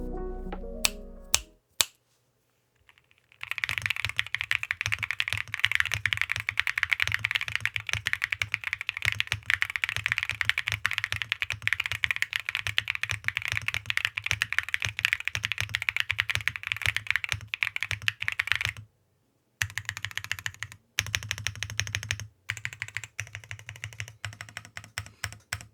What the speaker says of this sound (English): let's take a listen to the board with both bottom case foam layers removed